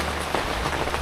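Steady rain falling and pattering on a surface, a continuous close hiss of drops with no voices over it.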